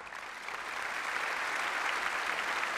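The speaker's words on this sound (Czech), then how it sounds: "jistě si bezesporu zaslouží váš potlesk" Audience applause in a 1987 Czech music-and-dance television show, rising after a crew member is introduced and then holding as dense, steady clapping from a large crowd with no voices over it.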